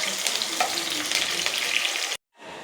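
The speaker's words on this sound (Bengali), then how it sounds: "এই যে পেঁয়াজটা ভাজা হলে পেঁয়াজটা দিয়ে দিব" Onion fries in a pan with a continuous crackling sizzle and light stirring, then cuts off abruptly near the end before a softer hiss returns.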